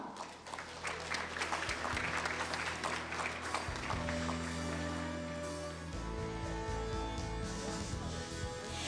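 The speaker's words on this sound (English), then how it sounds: "Let's give a warm round of applause for Mr." A conference audience at a trading summit panel gives steady, sustained applause that stays dense and even throughout, with a faint tonal hum underneath.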